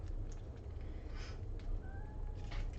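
A cat meows outside a door, two faint rising calls late in the moment over a steady low room hum, with softer earlier sounds barely emerging.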